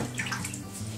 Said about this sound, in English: I'm just kind of going to wipe them one at a time in this water